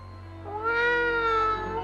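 A creepy cry from the flying creature in the film Ghoulies II, sounding like a real animal: one drawn-out, cat-like wail about a second long that rises over a steady low hum, heard alone.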